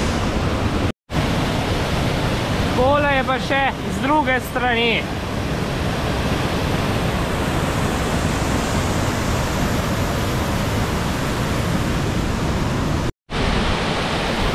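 Savica waterfall rushing in a constant loud roar of falling water, steady and close, with someone speaking briefly over it near the start.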